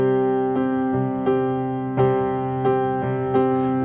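A piano plays a two-against-three polyrhythm: a steady low chord drone with evenly spaced repeated note attacks in two interlocking pulses, heard alone without speech.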